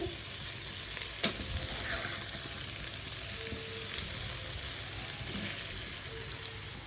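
Paneer fried rice is turned and stirred as it fries in a pan. A continuous close sizzle carries a few soft scrapes and one sharp clink early on, and no voices are heard.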